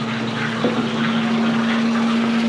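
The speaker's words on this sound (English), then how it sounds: "Alright, so it's almost done pumping down." At a cabin, a water pump pumping down runs in a steady hum with a constant tonal whine, continuous and fairly loud, with running water under it.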